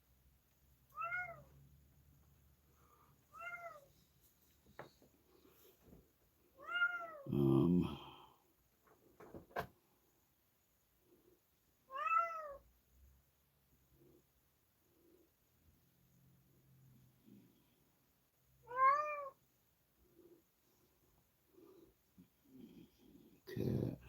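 A cat meows at a window, about six distinct rising and falling cries spread out over a quiet room with brief low speech and small background noises between them.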